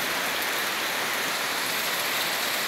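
Steady, dense rain hiss with no pauses, moderately loud and close, like a downpour drumming on surfaces all around, including plastic sheets collecting rainwater.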